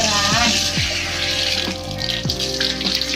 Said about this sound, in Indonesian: Nyalakan keran